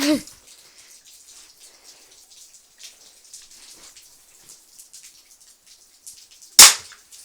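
A single sharp snap from a Cobra crossbow shot rings out near the end after quiet, faint rustling, with a brief thud at the very start.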